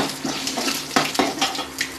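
Dried red chillies fry in a pan of hot oil for a tomato thokku, with a steady sizzle broken by scraping stirs and light clinks of a utensil against the pan, close up.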